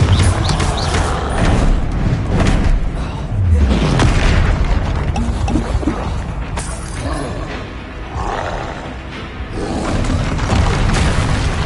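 Confringo, a fiery explosive spell cast in Hogwarts Legacy during a troll fight, lets off repeated heavy booms and blasts over a dense, loud bed of game music, creature roars and rumbling effects.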